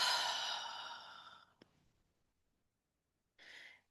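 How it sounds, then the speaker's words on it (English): A single deep breath let out slowly through the mouth during a guided relaxation exercise, a soft airy exhale fading over about a second and a half, followed by quiet and then a brief second breath. "inhale deeper this time and release. Exhale."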